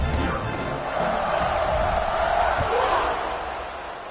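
A home football stadium crowd cheers in a steady, loud roar while the home team leads 27-0 in the first half, with a commentator's voice running over the noise.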